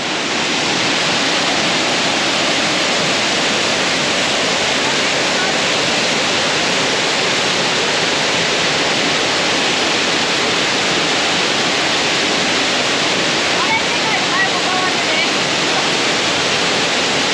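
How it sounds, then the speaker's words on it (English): A waterfall in Fiji roars loud and steady, a dense, unbroken rushing wash of falling water that stays constant from start to finish. "So that was the waterfall."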